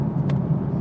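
A 2021 Chevrolet Camaro LT1 with a V8 engine gives off a steady, deep rumble, close and fairly loud, in one brief continuous stretch.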